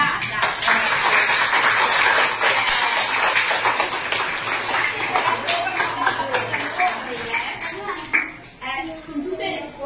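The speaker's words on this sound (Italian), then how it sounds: "Facciamo un applauso a questa signorata!" Schoolchildren applaud a visiting lady at an Italian school, a dense, sustained patter of many small hands clapping over ten seconds, with children's voices mixed in and the clapping thinning out toward the end.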